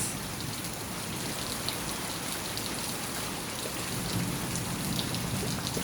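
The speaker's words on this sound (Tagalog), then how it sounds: "Ganyan kadami ang tubig ulan na galing sa harapan." Heavy rain pours steadily, a dense hiss of drops on surfaces that stays constant throughout, with no voices.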